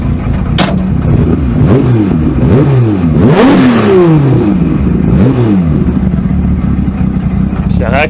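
A Jaguar E-Type race car engine is blipped several times close by, each loud rev sweeping up and falling back over a rough idle, with a voice speaking briefly.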